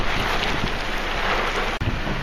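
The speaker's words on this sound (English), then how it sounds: "Nope, it's gonna pour now." Heavy rain pours down during a Phoenix dust storm, a dense, loud, unbroken roar of water with one very brief dropout near the end and no talking.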